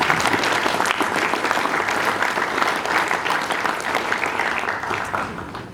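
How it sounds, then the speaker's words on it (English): A school sports dinner audience applauds coaches, parents and supporters, dense sustained clapping from a large crowd, loud and even from start to finish. "a round of applause"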